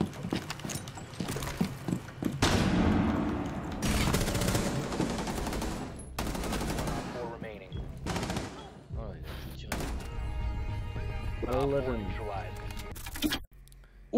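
Rainbow Six Siege gunfire bursts in rapid clusters, loud and near, with pauses between volleys, while a voice talks over parts of the action.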